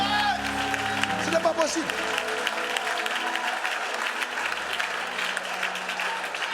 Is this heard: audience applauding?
yes